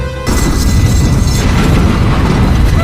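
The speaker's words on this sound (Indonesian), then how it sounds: "timbul sebuah ledakan besar dari dalam" A big bomb explosion in a film, erupting suddenly as a loud, dense boom that sustains as a heavy roaring rumble to the end, with no talk over it.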